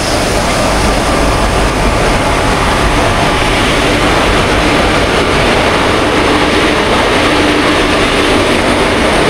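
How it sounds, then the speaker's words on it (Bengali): The Kanchankanya Express pulls into a station platform, a loud, close, continuous rush of wheels and engine rumble that fills the scene without letup. "এপাশে ঢুকছে কাঞ্চনকন্যা এক্সপ্রেস"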